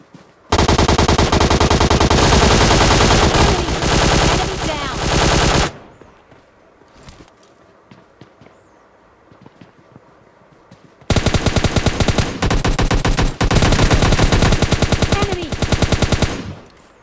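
Automatic gunfire in a fight in PUBG Mobile Lite, with a long loud burst of rapid shots, a quieter gap with scattered clicks and pops, then another sustained rapid volley, all close and harsh, with no talk.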